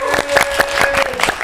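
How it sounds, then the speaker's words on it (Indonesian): A short burst of applause from a small studio audience during an Indonesian podcast recording, rapid close claps in a quick uneven rhythm layered over a held sung or hummed tone, lasting about a second and a half. "tepuk tangan dulu."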